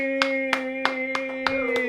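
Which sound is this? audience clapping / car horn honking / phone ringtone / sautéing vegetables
audience clapping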